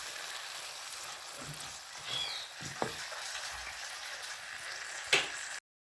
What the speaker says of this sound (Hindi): चनों को भी 10 मिनट के लिए भून लेंगे